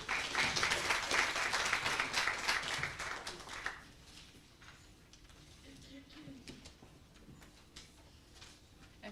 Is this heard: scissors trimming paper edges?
no